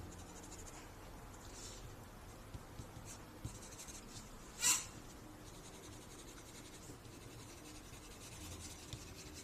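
Soft, steady scratching of a colored pencil moving over paper, faint and continuous, with one brief louder tap partway through.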